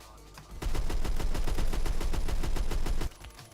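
An AK-103 rifle with bars fires in Phantom Forces, one sustained rapid automatic burst of about two and a half seconds, loud and close, with no talking.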